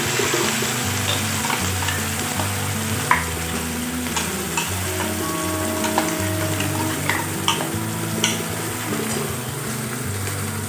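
Masala frying in two spoons of hot oil in a kadhai, a steady close sizzle with occasional stirring clicks and a low background hum.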